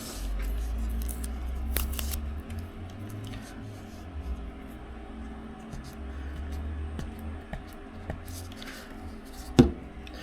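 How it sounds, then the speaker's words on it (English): Old electrical tape being peeled and unwound from a badminton racket grip, giving quiet, intermittent sticky crackles and rustles over a low background hum, with one sharper snap near the end. "I just use electrical tape. So I'm going to undo that,"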